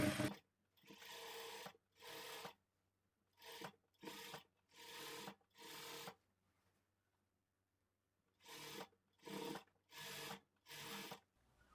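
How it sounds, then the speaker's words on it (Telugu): A sewing machine runs in short bursts, stitching layers of a frock. Close and steady whirring comes in separate runs broken by brief pauses and one longer silence. "1/4 ఇంచ్ మార్జిన్తో ఇంకొక స్టిచ్ వేసుకోవాలి"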